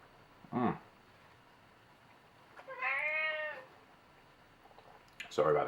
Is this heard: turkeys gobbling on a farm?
no